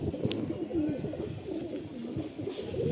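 Several Pilanka pigeons, ABC line, coo in low rolling phrases within a loft, near and continuous, with overlapping calls and no talk.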